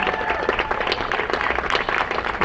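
An audience at a Memorial Day parade event claps and cheers for a sixth-grade award winner, a short burst of close, lively applause with whoops mixed in.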